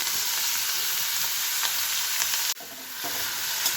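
Snails sizzle and crackle in a hot pan with onion and garlic while being stirred, a steady close frying hiss with a brief break and scrape partway through.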